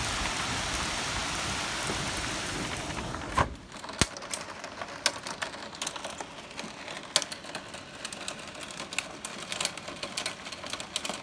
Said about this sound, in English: Thunder, lightning, pouring rain, and hail. The rain has been relentless.